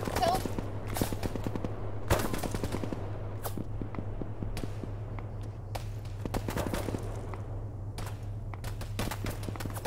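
A machine gun nest in Arma 3 fires in rapid, repeated bursts that crack sharply over a constant low hum, with scattered shots and footsteps nearby and voices talking at times.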